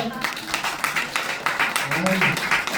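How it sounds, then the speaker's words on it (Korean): Church congregation claps during a Korean church service, a steady run of close, moderately loud claps mixed with talking. "박수 해주세요"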